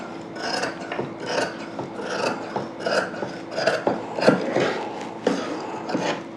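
Scissors cut through old saree fabric to straighten an edge for a kurti, making a run of crisp, rhythmic snips and rasps at close range, with no talking.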